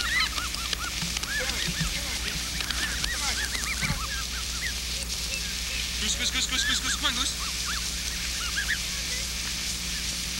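Geese honking and calling in scattered bursts, moderately near, mixed with a voice calling to them and light background noise.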